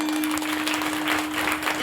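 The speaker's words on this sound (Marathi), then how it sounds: "या दोघांसाठी परत एकदा जोरदार टाळ्या वाजवा." An audience at a Marathi devotional kirtan gives a continuous burst of clapping, loud and steady for the whole moment.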